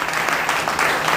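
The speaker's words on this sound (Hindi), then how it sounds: "आपके बीच में हम अपना जोरदार तालियों से स्वागत करें" Dense, steady applause from a crowd welcoming a chief guest at a Bahujan Samaj Party political meeting, loud and continuous without breaks.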